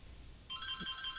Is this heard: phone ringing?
yes